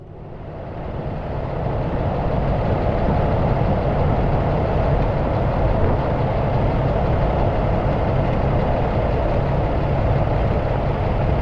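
A Western Star truck engine idles steadily and loudly, a deep continuous rumble that holds even throughout with no talk over it.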